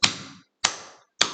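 Three crisp claps with open palms ring out at a steady pace in a church hall, each a sharp smack followed by a fading reverberant tail, with silence between them.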